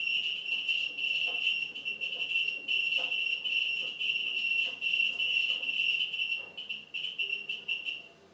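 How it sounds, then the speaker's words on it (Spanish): A buzzer in a homemade earthquake alarm circuit powered by a 9-volt battery sounds a shrill, steady high-pitched tone, close and continuous, with brief dips and faint tapping in the background. "Tiene que encender la lámpara y tiene que encender el zumbador."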